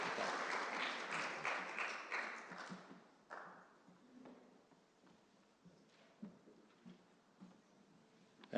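An audience at an international interfaith peace conference applauds in a dense burst that fades after a few seconds, leaving scattered late claps and small room noises.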